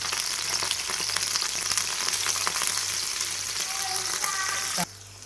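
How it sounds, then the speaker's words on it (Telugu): Small pieces of chopped brinjal deep frying in hot oil in a kadai, making a loud dense continuous sizzle close up, which cuts off abruptly near the end. "ఇప్పుడు ఇందులోకి మనం చిన్నగా కోసి పెట్టుకున్న వంకాయని డీప్ ఫ్రై చేసుకుందాం."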